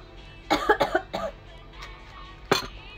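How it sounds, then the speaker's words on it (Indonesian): A person coughs in a quick cluster of four harsh bursts, then a pause and one more loud cough, close and clear with no talking. "Batuk dulu."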